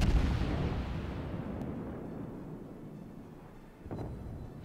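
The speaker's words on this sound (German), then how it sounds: "Schüsse kommen an und Schüsse sind im Ziel." Naval gunfire and shell hits in World of Warships while sailing the cruiser Baltimore: a deep, loud boom opens and rumbles away slowly, then a second, softer impact thuds near the end, no speech.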